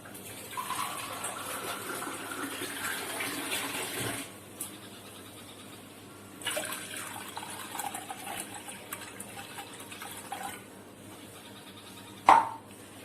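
Tap water runs steadily into a bowl for making tea at a home gas stove, a broad gushing flow with brief pauses around four and ten seconds and a sharp clink near the end.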